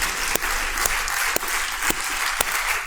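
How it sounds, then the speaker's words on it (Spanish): Sustained applause fills a church service as a congregation claps loudly and steadily for about three seconds. A few sharper accented claps stand out at regular intervals above the dense wash. "¿Le podemos dar un fuerte aplauso al Señor?"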